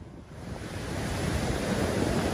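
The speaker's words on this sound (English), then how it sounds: "There's a really big swell in the sea today." Big sea swell along the Jurassic Coast shoreline, with a continuous roar of breaking surf building in loudness, close by and mixed with wind buffeting the microphone, and no voices.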